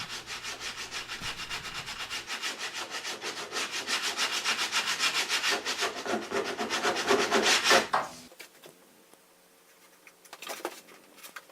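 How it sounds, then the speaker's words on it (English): Close, rhythmic strokes of sandpaper lightly rubbing across a wood strip for a pontoon, a steady back-and-forth rasp that stops, followed by a few faint scrapes. "Some light sanding and then placing the strip into position."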